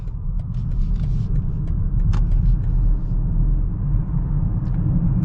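A 2021 BMW X5 xDrive45e plug-in hybrid SUV accelerates at full throttle. Heard from inside, it is a steady, loud, low rumble of engine and road noise with no voices.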